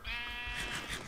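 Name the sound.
sheep bleating in the video game Minecraft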